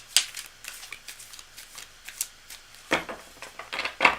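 A deck of reading cards being shuffled at close range, a quick series of crisp riffling and flicking bursts that grow denser and louder toward the end, with no talk over it.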